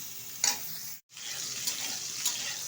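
Cauliflower curry with turmeric sizzles softly in a pan as it is stirred, with a couple of scraping clinks and a brief cut in the sound, no talking.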